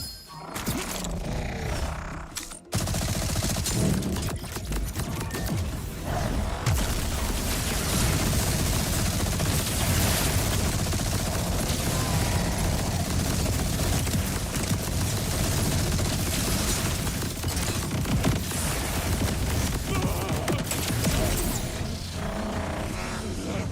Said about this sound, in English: You can see I was just shooting endlessly.